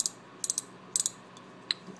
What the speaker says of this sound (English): Of course, the drag here, you're clicking.